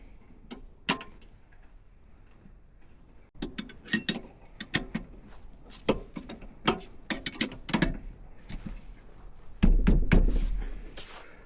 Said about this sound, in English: we'll put the caliper bolts in and get them tight